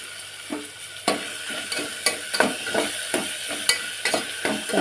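Tomatoes with ginger and garlic fry in a pan, stirred in a steady rhythm of about a dozen scraping strokes over a constant close sizzle, with no voices.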